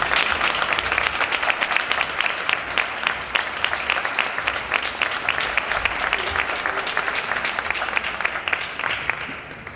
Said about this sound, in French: donc je voudrais qu'on lui donne une main d'applaudissement.